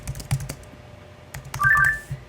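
Typing on a Mac computer keyboard, with short bursts of close, crisp key clicks separated by pauses and a faster flurry of keystrokes near the end.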